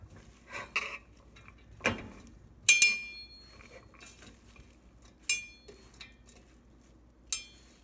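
Utensil clinking and scraping in a bowl while salsa verde ingredients with garlic and salt are mixed, a few sharp metallic taps spaced between quieter stirring, no speech.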